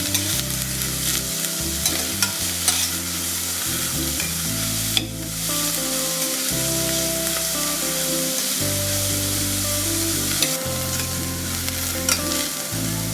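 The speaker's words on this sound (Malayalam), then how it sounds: "അതിലേക്ക് 2 ഇടത്തരം സവാള അരിഞ്ഞു വെച്ചത്, ആദ്യം ഒന്ന് ലൈറ്റായിട്ട് വഴറ്റാം." Sliced onions sizzle and fry in hot oil for a Kerala-style chicken thoran with roasted coconut, with repeated spoon stirring and scraping in the pan, loud and close, and no talking.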